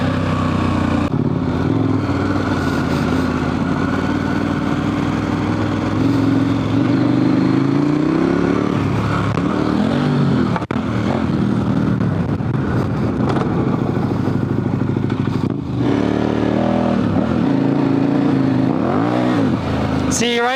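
Adventure motorcycle on Heidenau K60 Scout tires climbing an off-road ridge, the engine droning and revving in surges as the rear tire spins, loud and continuous with wind rush throughout.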